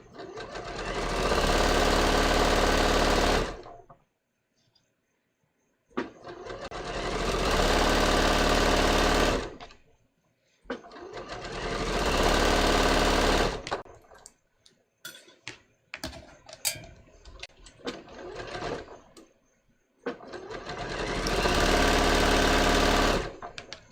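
Sewing machine stitching a long dress seam in four sustained, loud bursts of fast whirring, separated by short quiet pauses and a stretch of light handling clicks.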